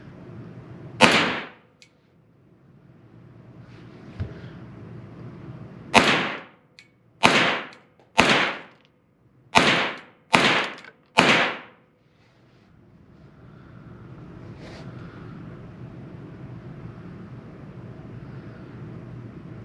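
A Raven 9 pistol fires its first shots outdoors, a single sharp report followed after a pause by a rapid string of six loud cracks, each ending in a brief echo, then quiet ambient noise.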